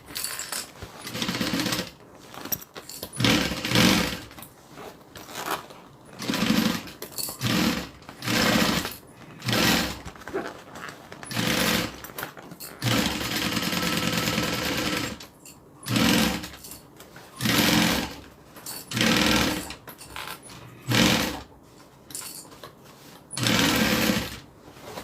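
A sewing machine stitches a bag lining in repeated bursts of rapid mechanical chatter, stopping and starting every second or two across the whole stretch, close and fairly loud with no talking.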